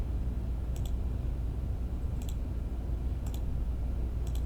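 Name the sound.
computer mouse clicking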